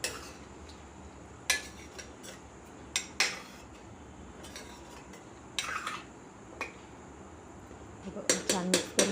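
A spoon scraping and clinking against a pan while stuffed brinjal curry is mixed, giving scattered metallic taps and stirring scrapes over a quiet background hiss, with a quick burst of clatter near the end.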